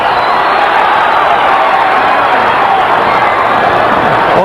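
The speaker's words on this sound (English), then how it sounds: "What the crowd is responding to is that George's blows appear to" A large boxing crowd roars steadily through round 6 of Michael Moorer vs George Foreman, reacting to Foreman's punches; the dense, loud crowd noise continues without a break for the whole moment.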